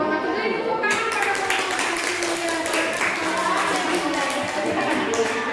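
Classroom applause for a presenting student group, a burst of many hands clapping that starts after a brief moment and continues steadily, fairly close, with some voices mixed in.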